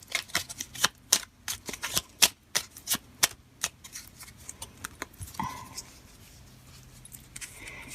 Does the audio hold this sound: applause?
no